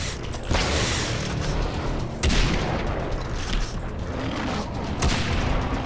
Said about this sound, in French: C'est pratique, hein, les balles explosives